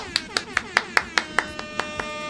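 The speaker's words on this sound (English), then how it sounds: "the sound of one fan clapping" A single person claps about ten times in a steady, slightly slowing rhythm, the sharp hand claps fairly close and alone against a quiet background.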